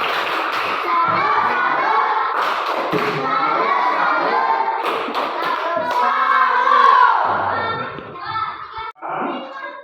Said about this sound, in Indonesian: Kita tepuk salut.